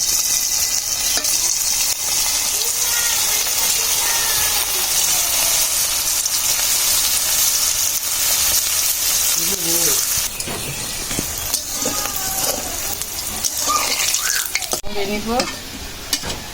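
Taro laddu balls fry in hot oil with a loud, dense sizzle and bubbling, stirred now and then, the crackle easing slightly toward the end as a voice briefly murmurs.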